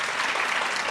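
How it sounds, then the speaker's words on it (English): Brief burst of dense audience applause at a business conference in Zambia, steady and fairly loud throughout with no pauses. "Give yourself a round of applause"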